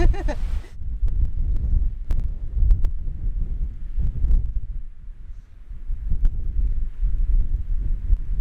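Strong mountain wind buffets the microphone in heavy, uneven low rumbles and thuds that rise and fall throughout, with a few sharp clicks and no clear talk.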